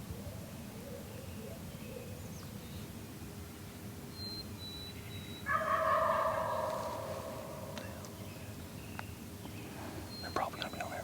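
A Merriam's wild turkey gobbles once on a mountainside at dawn, a distant rattling burst lasting a couple of seconds over steady wind and faint bird chirps, with a hushed whisper nearby.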